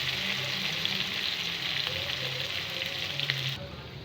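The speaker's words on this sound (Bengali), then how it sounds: "এই তো ভাজা ভাজা করতেছি" Ground spice paste fries steadily in a pot for a beef curry, giving a close, even crackling sizzle that quiets slightly near the end.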